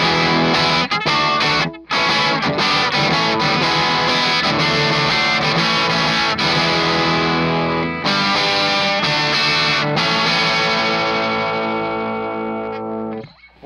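Electric guitar played through a Marshall amp with the bright switch engaged, sounding loud and sustained with dense overdriven chords and ringing notes, a brief gap near two seconds, fading out at the end.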